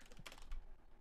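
Brief burst of computer keyboard typing, a few quick faint clicks and clacks close by, quiet and without talk.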